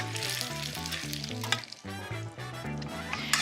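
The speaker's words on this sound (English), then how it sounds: "just add my eggplant pieces to the pan and just spread them out" Eggplant pieces spread into a hot pan give a steady frying sizzle that runs the whole time beneath a looping melodic music bed, briefly dipping midway.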